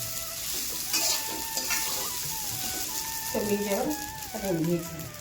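Sago pearls (sabudana) fry in a little oil in a pan, giving a steady close sizzle with stirring scrapes, while speech and tonal background sounds carry over the top.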